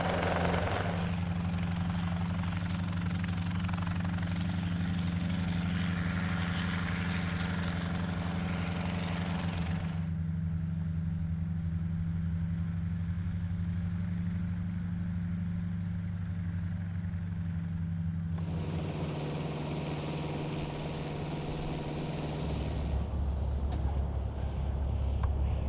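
A helicopter running steadily through a training flight's final takeoff and landing, its deep rotor drone and turbine whine constant and close throughout, with wind buffeting the microphone and the engine tone shifting toward the end.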